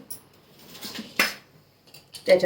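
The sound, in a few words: kadhai (wok) being placed on gas stove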